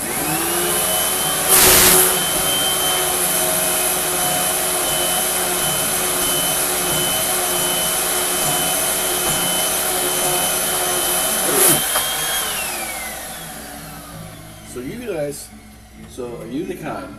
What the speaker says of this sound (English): keep banging the vacuum cleaner against the surface until eventually it pulls up what it wants